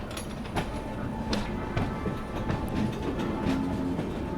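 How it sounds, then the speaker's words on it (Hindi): The New Delhi–Varanasi Vande Bharat Express approaches with a steady rumble and faint rhythmic wheel clatter, heard from inside another moving train, with no talk. "सामने से आ रही है new Delhi Varanasi junction Vande Bharat express आ रही है"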